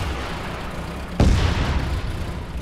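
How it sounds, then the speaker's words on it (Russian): A single sharp blast of game gunfire cuts in suddenly over a steady background rumble, then a noisy rattle trails off. "Хотя стрельба какая-то идет"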